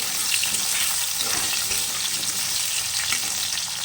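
Potatoes frying in oil in a pan for a traditional Bengali mixed vegetable curry with shrimp, a continuous loud, dense sizzle with soft stirring movements mixed in throughout.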